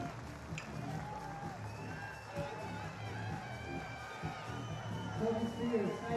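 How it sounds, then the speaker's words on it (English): A Hungarian crowd at a STIHL Timbersports competition cheers and whoops amid scattered applause, a lively, moderately distant roar with a commentator talking over it. "Absolutely fantastic support from the Hungarian crowd."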